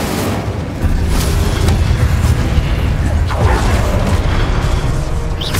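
Spell explosions from Confringo going off in Hogwarts Legacy, a steady loud barrage of booming blasts and bursts layered with rumble and clatter, continuous throughout with no pauses.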